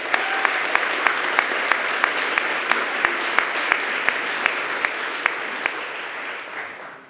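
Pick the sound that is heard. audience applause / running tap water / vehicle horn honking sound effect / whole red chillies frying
audience applause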